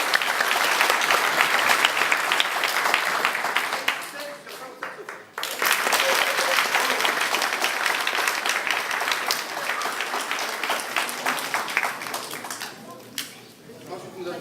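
Sustained applause from an audience at a music school recital honouring a student, a dense, steady wash of many hands clapping close by, briefly dipping midway before resuming and gradually thinning toward the end.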